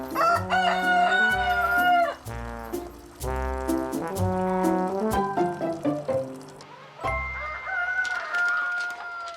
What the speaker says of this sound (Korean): 닭들은 숲을 이리저리 쏘다니며 뷔페식 점심을 즐깁니다.